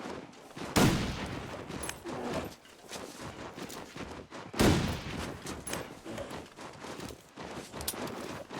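Rifle fire in a video game comes as two sharp, close shots several seconds apart, with clattering mechanical noise and scuffling in between.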